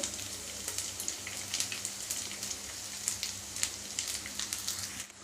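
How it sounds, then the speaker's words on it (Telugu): Rice sizzles in a pan with green chillies and onions, a steady soft crackle and hiss with dense, irregular spitting pops, close but fairly quiet, no voices. "ఇలా వేగితే సరిపోతుంది పచ్చిమిరకాయలు పెద్దలపాయలు ఇందులో రైస్ వేసుకున్నాం"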